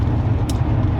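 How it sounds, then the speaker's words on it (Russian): Tire and road noise inside a Lexus RX 400h hybrid at 110 km/h: a constant low rumble fills the cabin, steady and loud, with no talk. "Вот реально машина стала очень шумная внутри."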